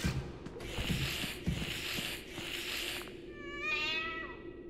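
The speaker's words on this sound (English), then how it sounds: "Ah, my cat." A house cat lets out a drawn-out, wavering meow near the end, close and clear, after a stretch of steady background noise with a few soft knocks.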